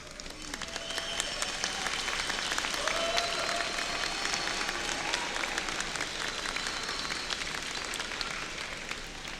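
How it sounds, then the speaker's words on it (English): A commencement crowd at a spring graduate-degree ceremony gives a sustained ovation, steady dense clapping from a large audience that swells in the first seconds and holds evenly, with faint scattered cheers and whistles drifting over the applause. "Now is your time to find them in the crowd and to give them an ovation."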